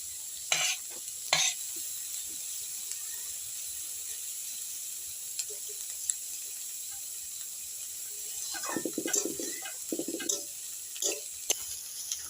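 Chopped garlic and onion fry in oil with a steady soft sizzle while a spatula scrapes and stirs in scattered bursts, busier toward the end; no one speaks.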